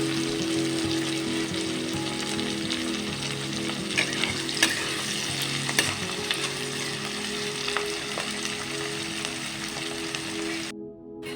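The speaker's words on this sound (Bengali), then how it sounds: "পেঁয়াজ কলিগুলো 1 মিনিট মতো ভাজার পর আমি ওর মধ্যে দিয়ে দিচ্ছি ক্যাপসিকাম কুচি।" Chopped capsicum sizzles with onion pieces in a pan as a home cook prepares a winter-vegetable chicken curry, a steady, dense frying hiss with occasional stirring clatter that runs throughout before cutting off near the end.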